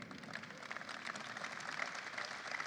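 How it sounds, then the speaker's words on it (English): Faint, distant clapping from parents in a crowd at a presidential event celebrating the Inflation Reduction Act, a steady low patter of applause heard from afar. "Mostly the parents clapping there."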